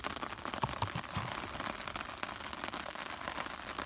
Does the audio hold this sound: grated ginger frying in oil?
no